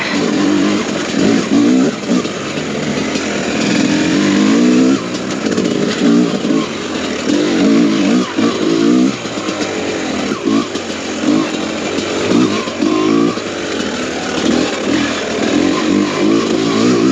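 A 2022 TM EN300 fuel-injected two-stroke motorcycle engine revs loudly and steadily, its raspy buzz rising and falling in repeated throttle bursts, close by and continuous throughout.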